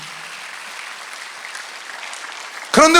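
A church congregation at a Sunday worship service applauds in a sustained, even patter of many clapping hands, moderately loud, before a voice cuts in at the very end.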